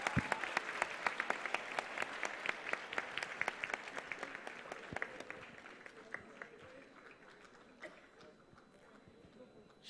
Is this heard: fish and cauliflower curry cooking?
no